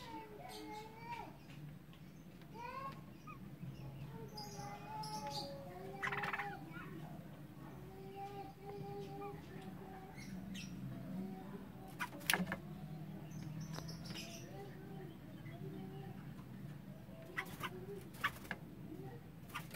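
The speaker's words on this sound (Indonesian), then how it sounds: "Penangkaran burung trucok" Sooty-headed bulbuls in a breeding colony, two pairs kept in a 2 by 1.5 metre aviary, give frequent chirps and short whistled calls over a steady low background rumble.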